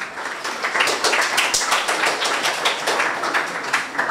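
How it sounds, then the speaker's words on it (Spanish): Audience applause welcoming an engineer to the stage at a geology lecture: dense, steady clapping from a room full of people, sustained evenly for several seconds. "Recibamos con fuertes palmas"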